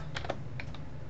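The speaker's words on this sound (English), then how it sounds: "I will type the formula out" Close computer keyboard typing as a formula is entered in a spreadsheet, a quick run of several light key clicks in uneven rhythm over faint room hum.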